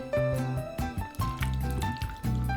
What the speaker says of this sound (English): Mix everything together evenly so the chicken is coated with all that flavor.